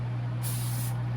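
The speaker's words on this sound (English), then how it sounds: "Spray a little bit more." A single short burst of cooking spray hisses into a skillet while breakfast eggs are being made. The spray is close and sharp, lasts about half a second and sits over a steady low hum.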